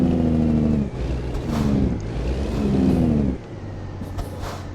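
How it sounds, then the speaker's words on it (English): A heavy truck's engine brake rumbles in American Truck Simulator, with a deep, loud, throbbing drone that pulses in uneven surges and then drops to a lower, steadier idle-like hum near the end. "I'm sure the city enjoys that, running them engine brakes."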